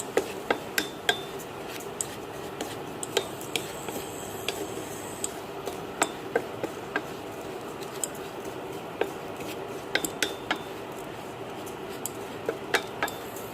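Onions and upma mix being sautéed in a pan on low heat, heard as a steady soft scraping bed with frequent sharp clicks and taps of a utensil against the pan throughout, fairly close, with no talking.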